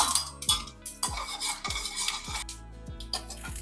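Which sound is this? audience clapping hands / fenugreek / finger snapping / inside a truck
fenugreek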